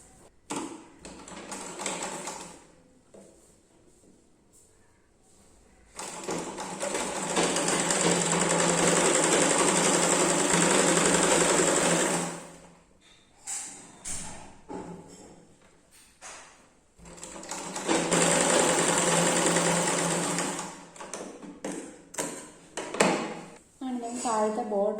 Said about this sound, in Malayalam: ഈ ഭാഗം ഒന്ന് മടക്കി സ്റ്റിച്ച് ചെയ്യാം.